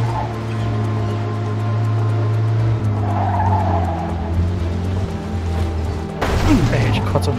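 A car in the Mafia II video game revs hard with a steady droning engine note, then its tires squeal in a long skid, with a thump near the end; people talk over it.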